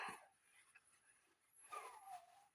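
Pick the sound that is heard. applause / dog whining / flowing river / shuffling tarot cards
dog whining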